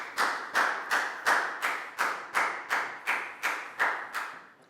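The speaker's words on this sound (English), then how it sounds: "High five and a big round of applause for Preo, guys." A round of hand clapping from a group, steady and rhythmic with about a dozen sharp bursts, moderately loud and close.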